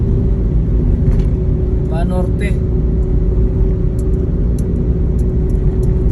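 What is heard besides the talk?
heavy traffic on EDSA Balintawak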